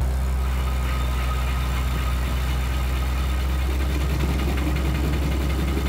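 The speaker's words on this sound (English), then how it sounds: "it's floored. I'm giving her gas." A car fitted with stone wheels runs with its accelerator floored, its engine holding a loud, steady, heavy drone with a rough, rumbling texture and no voices.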